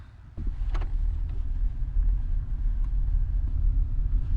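Steady low engine rumble and road noise from inside a Honda Civic cruising on the road, a constant droning hum that starts abruptly and holds even and close throughout, with no talking.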